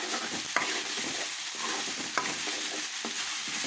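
Masala for chicken curry frying in a pan, a soft steady sizzle broken by several sharp scrapes of a spoon stirring, close and moderately quiet with no talking.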